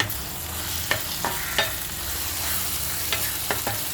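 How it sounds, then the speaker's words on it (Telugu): Ginger-garlic paste, coconut and cashew paste fry in a pan with softened tomatoes for mutton kheema, giving a steady broadband sizzle broken by several sharp spoon scrapes and clicks as it is stirred, close and with no talk. "దీంట్లో అల్లం వెల్లుల్లి పేస్టు, కొబ్బరి, జీడిపప్పు పేస్టు వేయాలి."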